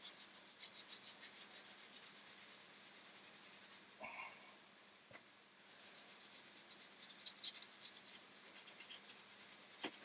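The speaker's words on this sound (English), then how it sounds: "It's just this sanding, man." A carved wooden vase is hand-sanded in steady, close, rhythmic scraping strokes that pause briefly near the middle before resuming, with no talk over it.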